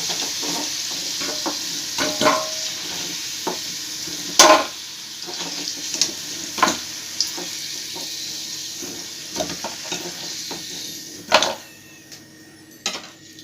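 Potatoes fry in a pan with a low, steady sizzle, broken by intermittent sharp scrapes and clacks of a spatula stirring against the metal, with no voices.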